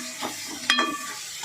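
A spoon stirs spices and red chili into a vegetable dish in a pan, giving a couple of quick scraping strokes and a sharp metallic clink over soft sizzling.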